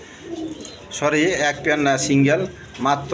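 A single black female Blazer pigeon coos softly in short repeated phrases while someone talks over it at close range.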